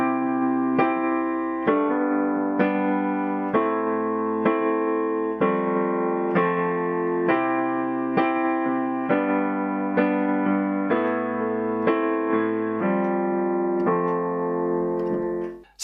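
A suspended-second (sus2) chord voicing played repeatedly in a steady rhythm, each strum ringing with sustained harmonic tones, continuous and fairly loud with no voices.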